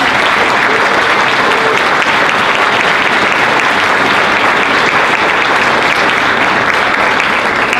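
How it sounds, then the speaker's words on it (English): Sustained, dense applause from an audience at a school honor society induction ceremony, saluting the honors band; steady and full throughout with no talk over it. "Let's have another round of applause for the honors band."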